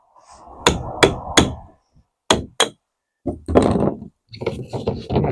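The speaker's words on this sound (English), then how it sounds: "Struggling to get lids off, piece of wood and hammer." Hammer strikes on a block of wood held against a plastic lid to knock it loose: sharp, close knocks, three quick ones, then two more, then a looser cluster of taps and scraping handling noise.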